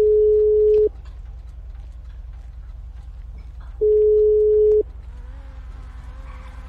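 Telephone tone in GTA 5 sounds as two long, loud, steady beeps with a gap between them, set over a low background hum.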